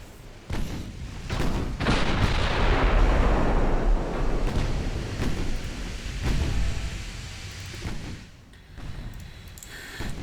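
Naval 2-inch guns fire in Ultimate Admiral Dreadnoughts, a dense, rolling barrage of booms and rumbling blasts that stays loud for several seconds, eases off, then picks up again with scattered bursts.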